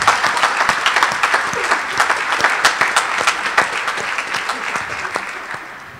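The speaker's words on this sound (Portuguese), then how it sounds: "Vamos aplaudir nós dois" A church congregation applauds during a Catholic Mass, a steady wash of many hands clapping that holds fairly loud throughout and tapers slightly toward the end, with no talk over it.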